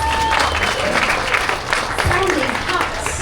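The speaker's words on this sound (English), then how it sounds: "Can you give them a round of applause?" A concert audience at an outdoor plaza band performance claps for guest trumpet players, a dense, steady burst of applause that carries through the whole moment with crowd noise and a voice over it.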